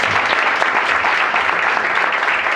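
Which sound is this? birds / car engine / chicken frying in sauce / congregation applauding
congregation applauding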